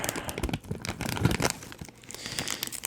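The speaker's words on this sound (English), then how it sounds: "gently peeling off the mulberry paper" Mulberry paper lining is gently peeled off a painting during art restoration, giving close, quiet crinkling and soft tearing that rustles continuously for a few seconds.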